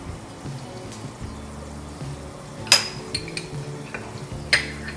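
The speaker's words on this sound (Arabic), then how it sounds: "وهلا بدي اخلط البصل مع معجون طماطم مع بعض لحد ما يتجانسوا" A utensil stirs onions with tomato paste in a cooking pan, making scattered sharp metallic clinks and scrapes over a low background hum. Two or three knocks stand out, close and fairly soft, with no talking.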